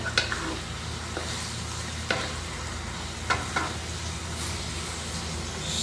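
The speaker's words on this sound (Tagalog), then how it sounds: "ilalagay na rin po natin ang ating sibuyas. Ayan. Haloan lang din natin." Onions frying with beef steak hiss and crackle steadily in a hot pan while a utensil stirs them, making several sharp scraping clicks, close and without talk.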